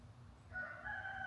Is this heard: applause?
no